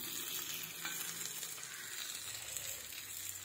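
Yekkale fry sizzling in a pan, a faint, steady crackling hiss with light stirring scrapes, close but quiet and continuous, with no talking.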